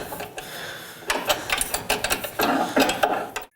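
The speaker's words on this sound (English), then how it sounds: "You can use a size 14 wrench to come up underneath it and tighten the" A size 14 wrench tightening a bolt to the frame of a 2017–18 Ford F-150 Raptor, giving a close, repeated mechanical clicking in uneven bursts with brief pauses between strokes.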